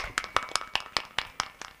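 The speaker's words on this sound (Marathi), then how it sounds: "तुमचा टाळ्यांचा तर आवाज आहे ना" Hands clap in an even rhythm from a kirtan audience, about nine sharp claps close together at a steady moderate pace, with no talking over them.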